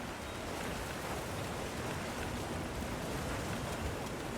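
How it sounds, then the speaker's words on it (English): Heavy rain pours down in Monster Hunter Wilds as a steady, dense downpour, constant and even throughout with no voices. "The rain's really coming down."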